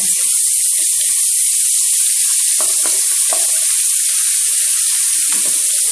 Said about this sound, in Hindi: एक कढ़ाई में ऑयल गर्म करेंगे और इसमें एक खाने का चम्मच लहसुन अदरक का पेस्ट फ्राई करेंगे